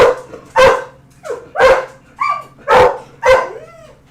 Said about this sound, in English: There's some people up front walking. They have a dog with them.